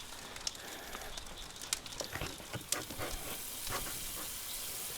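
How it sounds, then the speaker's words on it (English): Pork chops sizzle on a grate over a hot campfire outdoors, a steady crackling hiss with scattered louder pops and snaps, close and fairly quiet, with no talking. "Those are already just getting a beautiful sizzle on them."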